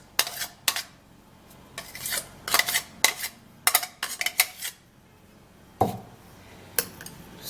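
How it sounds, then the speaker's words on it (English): A blended cucumber and banana mixture is transferred into a bowl with a run of light clinks, taps and scrapes of a utensil against the dish, close by and with no talking. "Now I'm going to be turning it into a bowl"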